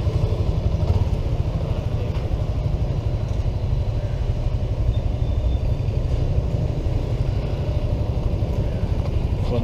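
A motorcycle engine runs steadily at a motorcycle shop, a continuous loud, rough idle throb with no breaks.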